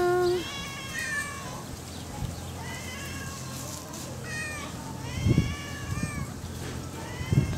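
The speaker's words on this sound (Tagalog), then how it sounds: "Ito pa rin yung mga pusa." Several cats meow repeatedly on a farm, near and fairly clear, with overlapping calls over a soft background hiss.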